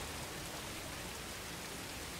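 Steady rain falls in the Star Wars Jedi Fallen Order video game, a dense, even hiss of drops on surfaces that holds unchanged throughout without any voice over it.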